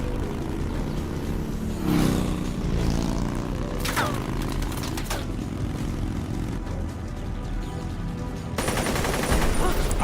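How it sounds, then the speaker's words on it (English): Gunfire aimed at a motorbike in the video game Metal Gear Solid Delta: Snake Eater, dense bursts and cracks mixed with engine and vehicle roar, a sharp burst near two seconds and heavier firing toward the end. "they're trying to shoot my bike"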